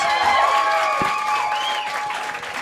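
A comedy roast audience claps in a steady, dense burst of applause at a club show, with a few voices and whoops rising over it throughout.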